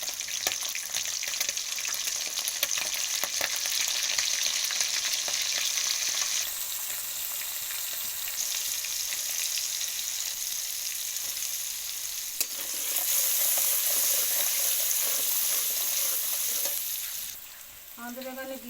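Pumpkin peel and shrimp, seasoned with salt and turmeric, sizzle and fry in a pan with steady close hissing and occasional stirring scrapes, while heavy rain falls outside.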